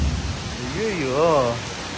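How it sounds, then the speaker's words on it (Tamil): Heavy rain pouring down during a monsoon downpour in Pondicherry, a steady broadband hiss throughout, with a voice briefly sounding over it. "கனமழை பெய்யுது"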